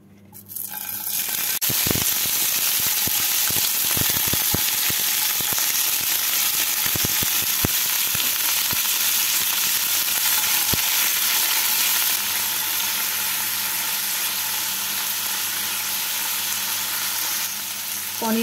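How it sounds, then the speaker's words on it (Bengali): Paneer and chopped onions fry in hot white oil in a pan, giving a loud, steady sizzle with scattered pops and crackles, plus occasional stirring clicks, all through without any voices. "তেলটাকে ভালো করে গরম করে নিয়ে এর মধ্যে পনির আর টুকরো করা পেঁয়াজগুলোকে দিয়ে"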